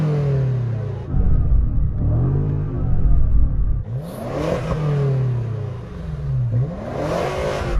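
The new BMW G90 M5's engine revs repeatedly at standstill, several loud rising and falling exhaust sweeps with deep rumble between them, close up and without talk.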